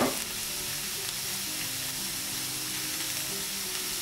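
Green capsicum being mixed into omelette batter for vegetable egg muffins, heard as a steady, close sizzling, frying-like hiss that runs unbroken for the whole stretch with no talk over it.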